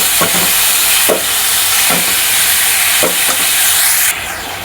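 A spoon stirs Kolhapuri-style mutton fry with vajadi (tripe) in a hot pan, scraping in steady strokes about once a second over a loud continuous sizzle, close up with no talking.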